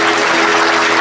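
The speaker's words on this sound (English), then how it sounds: "Round of applause for two pros." A cruise ship audience claps for two guitar-playing performers after their act, a dense and loud round of applause that fills the whole moment without a break.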